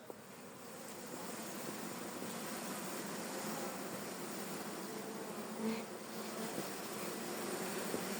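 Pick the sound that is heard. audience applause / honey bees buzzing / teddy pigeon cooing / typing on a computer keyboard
honey bees buzzing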